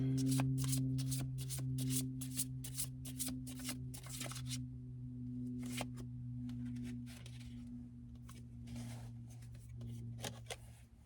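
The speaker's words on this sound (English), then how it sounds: "These cards like to splay out." Tarot cards shuffled by hand in quick bursts of crisp riffling flutters, close and soft, over a low steady hum of background music.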